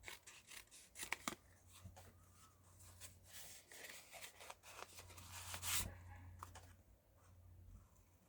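Scissors fussy-cut closely around stamped paper pieces for a card craft project, producing quiet, irregular snips and paper rustles close by, with faint handling noise in between.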